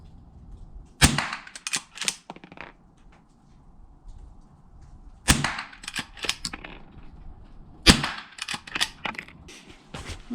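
Henry H001 .22 lever-action rifle fired at an outdoor range, three sharp cracks spaced several seconds apart, each followed by quick clicks of the lever cycling.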